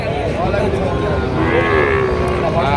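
Sahiwal cattle lowing at the busy Panchbibi livestock market in Bangladesh, with drawn-out moos rising over a constant murmur of crowd voices and general market din.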